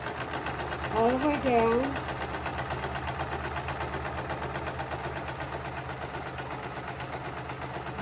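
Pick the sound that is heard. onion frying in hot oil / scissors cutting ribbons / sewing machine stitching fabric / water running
sewing machine stitching fabric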